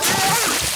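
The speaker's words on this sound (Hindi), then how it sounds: "चलो उन्हें ठंडा करने के लिए उन पर पानी डालते हैं।" Cartoon sound of water poured and splashing onto a sleeping pig, a brief loud slosh and splatter heard close up.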